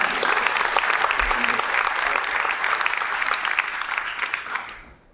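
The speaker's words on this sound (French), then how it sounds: "On va l'applaudir." Sustained applause from a keynote audience rings out loud and even, then tapers off and fades in the final second.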